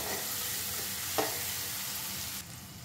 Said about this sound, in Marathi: हे पण थोडंसं परतूया आपण